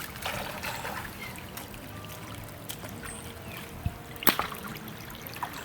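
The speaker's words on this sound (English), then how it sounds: "Under the water flow. Under the waterfall." Steady trickling, splashing water from a small waterfall in a river runs throughout, with a few brief knocks and clicks near the end.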